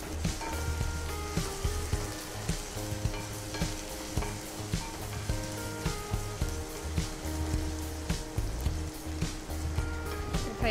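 Chopped tomatoes frying in a pan give a steady bright sizzle, with frequent scraping stirs and clinks of a spoon against the pan, recorded close and without talk.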